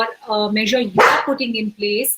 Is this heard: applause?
no